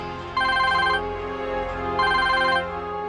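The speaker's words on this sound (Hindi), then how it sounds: "उनका फोन बस आता ही होगा" A telephone rings in two distinct bursts, each about half a second long with a short pause between them. The ringing is clear and steady over a low background hum, and no one speaks.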